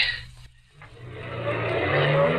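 A car races past at speed in a radio drama sound effect, engine rising from a brief lull into a sustained, loud roar that holds to the end.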